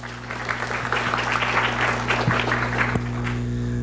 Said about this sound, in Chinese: 请大家以掌声欢迎他